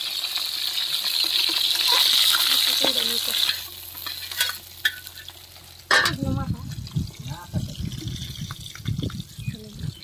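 Rohu fish tail fries in hot oil with a loud, close crackling sizzle for the first few seconds, which then gives way to quieter spluttering, utensil clatter and liquid sounds.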